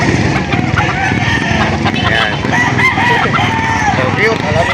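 Many roosters crow and hens cluck all around in a busy, noisy crowd of birds at a poultry auction market, including Cornish Bantams, with people talking nearby.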